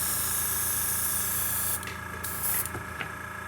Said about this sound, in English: You guys can hear my compressor kicking on.